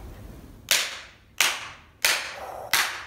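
Four loud, sharp claps of two instruments struck together by a music teacher, evenly spaced about two-thirds of a second apart, each with a bright crack and a short fading tail.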